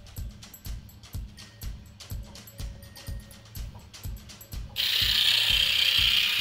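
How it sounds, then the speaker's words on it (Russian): A Polaris electric roller pedicure file runs with a fast, regular mechanical clicking and rattling, then shifts at about five seconds into a steady, louder high whirring buzz, close and with no voices. "Так вот сама роликовая пилка."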